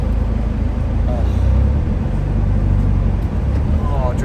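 Steady low engine rumble and road noise from inside a 2009 Chevrolet Cobalt SS with a stick shift, driving over rough pavement, loud and continuous with a faint voice in the background.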